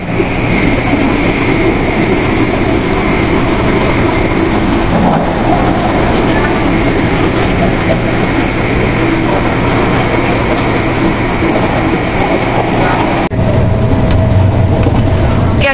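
A steady, loud rumble of a fast-moving train on rails in Hong Kong, near Sunny Bay Station, a continuous roar with a brief change in tone near the end.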